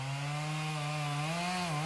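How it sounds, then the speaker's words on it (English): A chainsaw cutting a notch into a standing tree as it is felled, its engine holding a loud, steady, close buzzing drone with a slight wavering in pitch and no speech. "start up the chainsaw, and cut"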